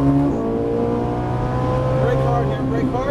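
A Ferrari 458 Italia engine roaring loudly and close, its pitch dropping as it downshifts under braking and then holding under throttle, with a brief blip near the start.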